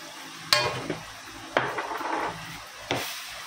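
Ginger, garlic, cumin, coriander, fennel and chili powder being stirred and fried in a little oil in a pan, with three sharp scraping strokes of a spoon against the pan over a soft, steady sizzle.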